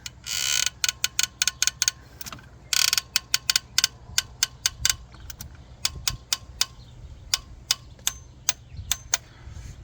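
A ratchet torque wrench tightens old injector clamp bolts on a Hyundai Santa Fe engine, bursts of rapid sharp clicks, close and loud, over a low background hum, no talk.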